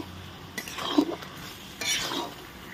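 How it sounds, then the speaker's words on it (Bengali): Chicken being stir-cooked kosha-style with tomato, ground raw spices, cinnamon, cloves and cardamom in a pan, the spatula scraping and clinking in a few close strokes over a faint sizzle. "এইভাবে আমরা 5 থেকে 7 মিনিট মতো কষবো মাংসটা ভালোভাবে"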